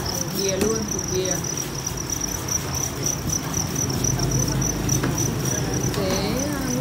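Crickets kept in a cardboard rearing box trill steadily and shrilly, a dense continuous chirping chorus held close by with no pauses throughout.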